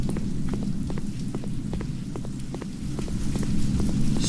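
Heavy pouring rain in the Signal Simulator video game, a steady dense hiss with scattered drop patter and a low rumbling bed beneath, continuous and fairly loud throughout with no talking.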